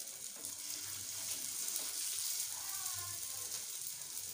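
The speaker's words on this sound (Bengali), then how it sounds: "একটা করে এটাকে একদম শ্যালো ফ্রাই করতে হবে" Aloo tikki patties for dahi aloo tikki shallow frying in a pan, giving a steady hiss and sizzle with faint bubbling that continues throughout, while a person talks over it.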